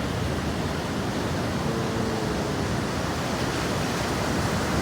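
Ocean waves surge steadily at Krui beach, a dense, continuous roar of surf filling the air with no distinct breaks, moderately loud and close, with no voices.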